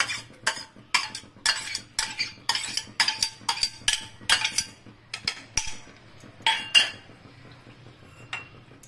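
A spoon mixes grated coconut, chopped nuts and chopped chili into a stuffing for kakrol, making quick, irregular clinks and scrapes against the bowl that come close and fairly quiet.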